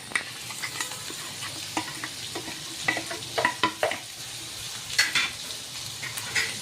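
Ridge gourd stuffed with masala frying in oil in a pan, with a steady sizzle and repeated scraping stirs that come in short bursts, close and alone without talk.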